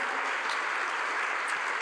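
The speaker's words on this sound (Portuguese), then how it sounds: "Vamos aplaudir o Senhor" A church congregation claps in praise of the Lord, a brief, dense and even burst of many hands applauding together.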